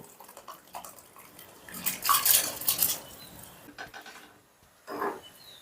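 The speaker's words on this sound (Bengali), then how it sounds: "মিশিয়ে নিয়েই দিয়ে দিচ্ছি ভিজিয়ে রাখা চাল" Soaked rice tipped into a pot of oil with a little vinegar, salt and water for chicken rice gives a wet rustling pour with clinks of the pot. It swells loudest midway, then trails off to a short splash near the end.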